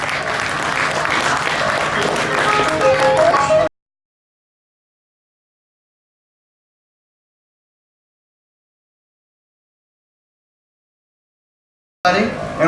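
A stage fair show audience in Nebraska claps briefly, a dense burst of applause at the start that cuts off into silence, with a little more clapping resuming at the very end.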